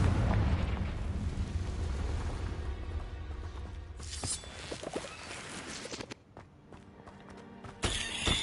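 A Confringo blasting spell explodes in Hogwarts Legacy, a rumbling, low boom that rolls and fades into scattered crackling debris and game effects over several seconds.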